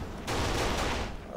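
Shotgun fire in the video game Kane and Lynch 2 comes as a loud, sustained burst of gunfire blasts, dense and close, starting abruptly and lingering with a roaring tail.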